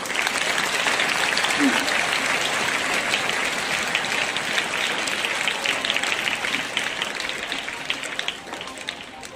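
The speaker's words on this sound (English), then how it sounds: "The clapping is not having any power in it." An audience claps in a steady, sustained wash of applause, loud and even, with light, rapid hand strikes that keep going for the whole stretch and fade a little toward the end.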